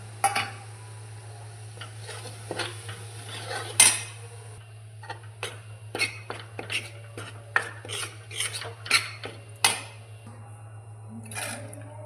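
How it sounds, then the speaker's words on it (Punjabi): A metal spoon scrapes and clinks against a pan as flour roasts over a low gas flame for neem-bud panjiri. The taps come unevenly, some sharp and loud, over a steady low hum. "ਮੈਂ ਗੈਸ ਸਿਮ ਤੇ ਕਰਕੇ ਇਹਦੇ ਵਿੱਚ ਥੋੜਾ ਜਿਹਾ ਆਟਾ ਪਾ ਕੇ ਆਟਾ ਭੁੰਨ ਲਿਆ"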